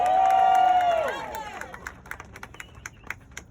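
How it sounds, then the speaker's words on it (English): A rally crowd for Senator Raphael Warnock in Rockdale County, Georgia applauds and cheers Congressman Hank Johnson, opening with a loud sustained shout that fades into scattered claps and whoops. "Give him a great big round of applause"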